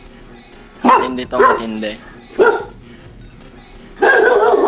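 A household dog barks and yelps in several short, loud bursts close to the microphone, with someone talking between and over the barks.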